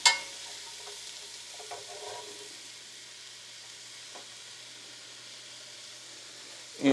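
Onions frying in a pan still greasy from cooked sausage, giving a soft, even sizzle and hiss with a few faint stirring scrapes, quiet and steady, with a sharp knock at the start and end.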